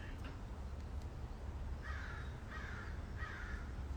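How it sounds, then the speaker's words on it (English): A crow caws three times outdoors at a moderate distance, evenly spaced harsh calls over a low steady background rumble, with no speech. "Got a crow stage left."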